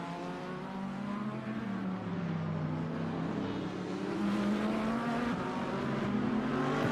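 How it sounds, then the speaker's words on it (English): A Squadra Corsa Lamborghini race car coming down the back straight at COTA during a 12-hour endurance race, a steady loud engine drone with a rising and falling pitch as it holds speed, no talk over it. "we watch the P2 Squadra Corsa Lamborghini coming down the back straight"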